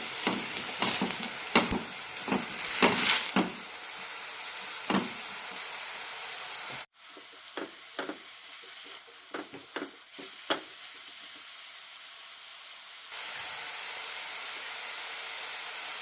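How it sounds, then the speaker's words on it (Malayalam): Onions and green chillies fry in a pan for a chickpea curry, a steady sizzle broken by repeated sharp stirring scrapes, with a brief cut midway and no talk. "രണ്ട് പച്ചമുളക് അരിഞ്ഞത് കൂടി ഇടാം സവാളയിൽ വെള്ളമെല്ലാം വറ്റി ചെറുതായൊന്ന് ഗോൾഡൻ ആവണം"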